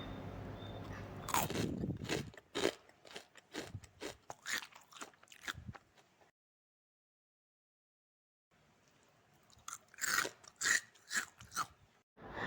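Crispy fried tofu bitten and chewed close to the mic, a run of sharp loud crunches, a few seconds of silence, then another burst of crunching.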